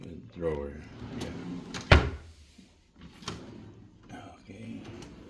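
A drawer in a luxury hotel room slides open with a sharp wooden knock, one brief loud thud amid quiet room sounds, while people talk casually nearby before and after.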